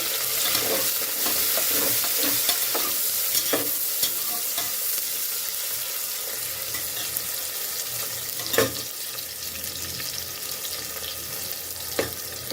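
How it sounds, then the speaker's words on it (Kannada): Onions, garlic and green chillies fry in a pan with a steady, close sizzle for about twelve seconds, while a spoon scrapes and taps the pan now and then. No one speaks. "ಇಲ್ಲಿ ಈರುಳ್ಳಿ ಹಾಕ್ಕೊತಾ ಇದ್ದೀನಿ, ಬೆಳ್ಳುಳ್ಳಿ, ಹಸಿಮೆಣಸಿನ್ಕಾಯಿ ಸ್ವಲ್ಪ ಫ್ರೈ ಆಗಲಿ"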